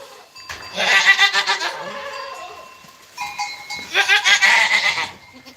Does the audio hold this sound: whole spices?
no